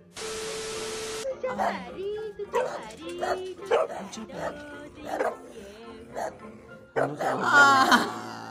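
A dog barks and yips in a quick series of short, sharp bursts, ending in a louder, more excited flurry.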